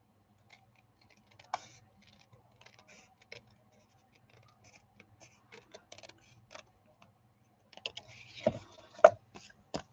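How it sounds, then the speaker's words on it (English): Scissors snip and trim paper while a journal is being made, giving sparse, quiet clicks and scratchy cuts that grow denser and louder toward the end, with no voices. "Then I'm just going to come with my scissors."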